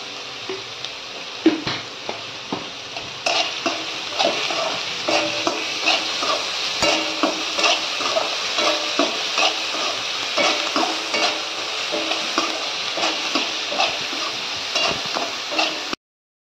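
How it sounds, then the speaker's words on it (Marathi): Onion frying in a pan for a Marathi kartoli (spiny gourd) bhaji, with a steady close sizzle throughout and regular clicks and scrapes of a spoon stirring. "आता कांदा भाजून घ्यायचा."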